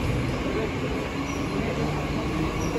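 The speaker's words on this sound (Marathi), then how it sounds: "मस्त आपली लोकल जाते आता." A Mumbai local train pulls out of Kurla station, its steady rumbling roar filling the platform continuously and fairly close, with faint background voices underneath.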